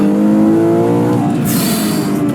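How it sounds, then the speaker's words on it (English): Ferrari SUV engine downshifting into first gear for a hairpin on hill roads above Maranello, heard from inside as a loud sustained drone with a quick rev blip as the gear drops. "Downshift into first for the hairpin, up the hills."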